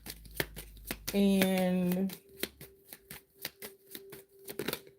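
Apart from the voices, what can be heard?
shuffling tarot cards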